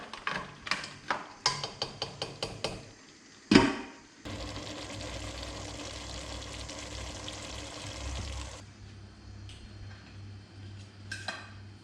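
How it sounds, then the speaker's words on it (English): Chilli mud crab simmers in a pan with a steady low sizzle and bubbling after a run of sharp clinks and knocks of utensils against the pan; faint taps return near the end. "Now you just bring it back a bit. Let it simmer away."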